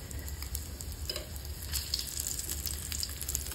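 Homemade fish fingers frying in a pan on a gas stove, a steady close sizzle with light crackle and a few soft spatula touches, no talk.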